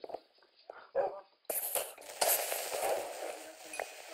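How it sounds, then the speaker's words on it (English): A Minecraft dog gives a couple of soft barks among quiet game sounds, then a sudden wash of louder, busier game noise takes over and continues to the end. "Nice dog."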